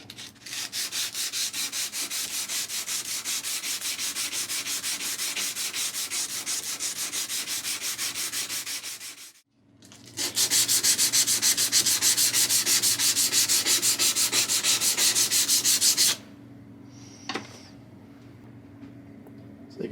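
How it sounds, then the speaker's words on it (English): A steel camp knife blade is hand-sanded smooth in a workshop: fast, rhythmic rasping strokes run for about nine seconds, pause briefly, resume even louder, then stop with a few faint scrapes afterward. "sand this up to where we feel it's nice and smooth"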